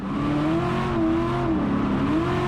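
A drift car's engine held at full throttle, a steady strained roar with shifting pitch that holds loud and continuous throughout, with no pauses or breaks.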